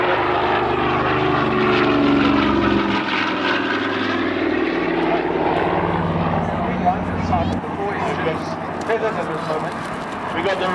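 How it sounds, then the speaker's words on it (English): Vintage Douglas DC-4 four-engine propeller airliner passing down the runway at an air show, a loud continuous engine drone shifting in pitch as it goes by, with the right-hand engine cut and feathered. "a real classic vintage aircraft"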